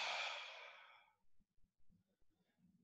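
A slow, breathy exhale during a post-run breathing exercise, close and soft, fading out over about a second, followed by faint shuffling.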